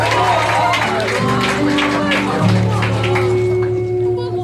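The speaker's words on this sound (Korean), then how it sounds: "여러분 박수 한번 부탁드릴게요." A crowd at a fan concert applauds and murmurs, continuous loud clapping mixed with crowd noise and sustained low tones underneath.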